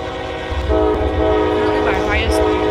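Locomotive horn in the Run8 train simulator game blares loud and sustained over rumbling rail noise, with pitch bends near the end.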